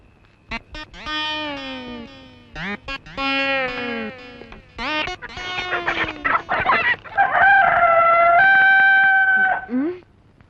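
A rooster crows loudly several times in a row, ending with a long drawn-out call; no other sound competes.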